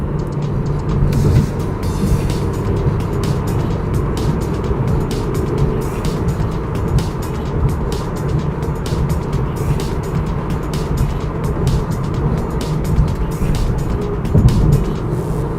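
A 2018 Mazda CX-3 1.5 XDL accelerates hard during an acceleration test, its engine note heard from inside as a steady, loud, rising drone mixed with road and tire noise for about fifteen seconds, with no talking.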